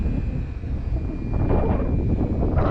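Strong gusting wind roars across an open flying field while an FMS Kingfisher RC plane flies at half throttle into a headwind, a steady low rumble with broadband buffeting that swells louder toward the end.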